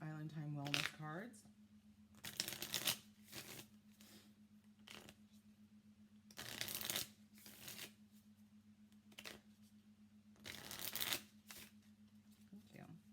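Island Time Wellness oracle cards are shuffled in three distinct papery bursts, each a few seconds long, over a steady low hum with quiet gaps in between.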